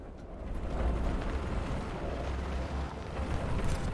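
A War Thunder anti-tank missile launch and flight gives a steady, close, rumbling roar with a rushing hiss that holds for several seconds without pause.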